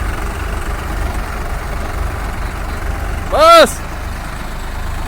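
Swaraj 744XT and New Holland 3600 tractors idle in a head-to-head contest, a steady low diesel rumble with a short loud horn-like blast partway through, while someone talks over the engines.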